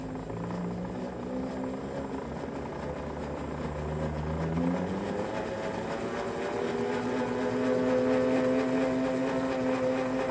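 A salvaged treadmill motor on a homemade firewood conveyor starts up and runs as a steady whining hum whose pitch climbs midway and then holds, fairly loud and close, with no talking.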